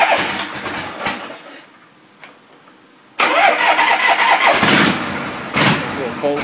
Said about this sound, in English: Little cold start. That's a shovel head, guys.